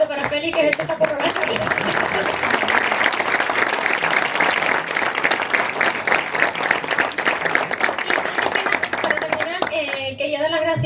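Louder, vigorous clapping rises from an audience at a criminology talk, a thick continuous burst of many hands that swells and then tapers off near the end.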